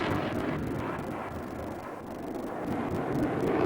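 A Sukhoi Su-27 Flanker jet flies at the Farnborough airshow, a loud, continuous broadband roar with wind rush that swells slightly toward the end, heard alone without talk.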